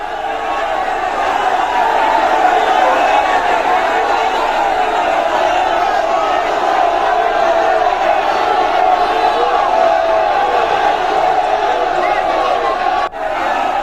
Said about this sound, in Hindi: इस हंगामे के बीच के शोर को सुना जा सकता है, तमाम तरह के नारे लग रहे हैं